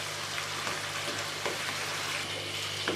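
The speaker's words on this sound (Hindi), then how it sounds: "अब हम इसको 2 से 3 मिनट अच्छे तरीके से भून लेंगे।" Chicken for biryani fries in a pan with a steady, close sizzle and crackle, a few soft stirring scrapes breaking through the continuous hiss.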